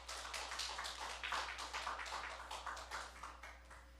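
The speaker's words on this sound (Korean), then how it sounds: "하나님께 영광의 박수 돌리겠어요" Worshippers at a Friday night vigil service at the Church of the Power of Love applaud in a quiet, steady patter of many hands for about four seconds. A low electrical hum runs steadily underneath.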